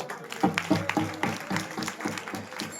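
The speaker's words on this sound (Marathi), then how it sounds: "टाळी वाजवा." A crowd at a temple kirtan claps in a quick, rhythmic beat, sharp repeated hand strikes falling at a steady pace with some voices mixed in.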